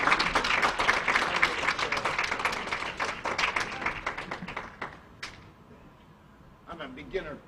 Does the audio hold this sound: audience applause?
yes